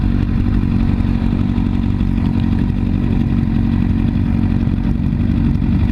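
A motorcycle engine drones loud and constant while riding on a rough road toward a stop, a dense, close rumble with no clear breaks.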